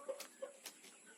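Village chickens being moved between pens cluck in a small commotion, a few short clucks and scattered rustling heard faintly at moderate distance.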